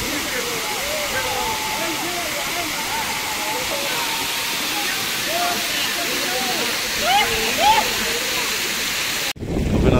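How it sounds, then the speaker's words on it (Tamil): Water pours at Chunayanmakkal waterfall in Kerala, a loud, steady broadband rush with no break, while voices call out over the roar. "பாருங்கள் எவ்வளோ நல்லா தண்ணி விழுது"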